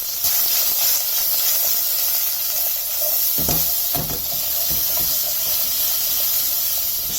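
Onions sauté in hot oil in a pan while chicken tikka masala is being made, giving a loud, close, continuous sizzling hiss with a few brief clatters partway through.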